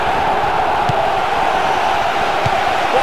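Steady crowd roar from a football video game's stadium audience, the opposing supporters chanting and shouting in a continuous wash with no breaks.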